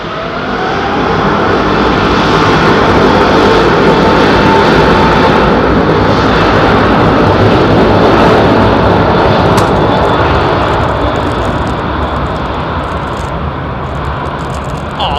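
A jet airliner taxiing at London Heathrow Airport, its engines giving a loud, steady broadband roar that holds throughout and eases slightly toward the end, with no voices.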